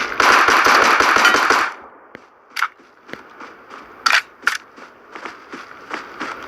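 A rapid burst of automatic gunfire from PUBG Mobile rattles for over a second, followed by scattered single shots and sharp cracks against quiet background.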